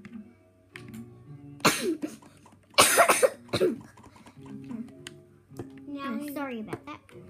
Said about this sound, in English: Just had to have a little cough.